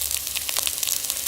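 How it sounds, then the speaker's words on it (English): Focaccia bread sizzles on a hot plate in a small kitchen, a dense, steady crackling hiss that holds at an even, fairly loud level throughout with no voices. "oh, listen to that sizzle"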